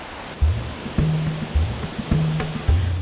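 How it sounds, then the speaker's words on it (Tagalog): Water pours steadily down a former dam in Samar, a constant broadband rushing roar with periodic low thuds, close and fairly loud, with no voices. "Dahil na rin sa ganda ng bagsak ng tubig dito"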